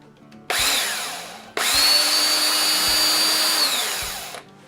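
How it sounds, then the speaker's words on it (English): A power drill with a fine bit bores a small pilot hole for mounting a tree, whining loudly in two bursts: a short run, a brief pause, then a longer steady spin that winds down. "All it's going to do is just put a little base pilot hole for me to mount this tree"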